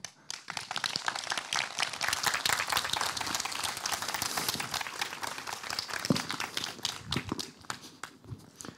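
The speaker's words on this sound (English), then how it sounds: "please welcome and give a big amount of applause to our Master of Architecture, Jakob Kurek." An architecture lecture audience applauds to welcome the speaker: many hands clapping in a dense, sustained burst that holds steady for several seconds before tapering off, with no talk over it.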